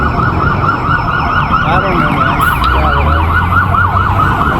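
An ambulance siren wails in rapid up-and-down sweeps, loud and close, over rumbling traffic noise on Avenida Paulista in São Paulo.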